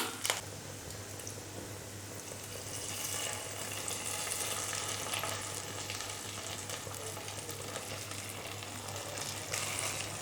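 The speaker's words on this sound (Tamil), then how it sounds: "இப்போ அதை அப்படியே அதில் கிளறி கொடுங்க." Cashews and raisins fried golden in ghee are stirred into soft, thick sweet pongal, a steady close frying sizzle with soft wet stirring sounds running for about ten seconds, no talking.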